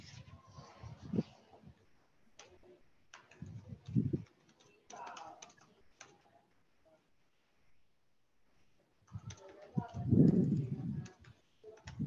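Keys clatter in short bursts of typing on a computer keyboard during an online class activity, clicks coming in uneven clusters between pauses, with a person's voice mixed in near the microphone.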